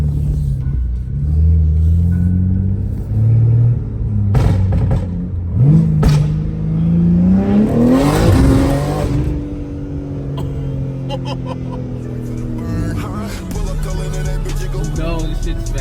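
A tuned 700 hp BMW G80 M3 rumbles loudly, rising and falling through several revs before surging into a hard acceleration that sweeps upward, then settles back to a deep, steady drone.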